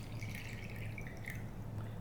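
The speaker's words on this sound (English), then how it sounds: "We're going to pour water in here." Water trickles and drips into an orchid saucer, a soft, steady, close-up pour at low level.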